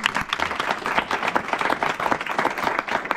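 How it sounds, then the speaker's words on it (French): An audience claps for a dancer at a morning academy event, a dense burst of steady applause from many hands lasting several seconds with no talk over it. "on peut l'applaudir."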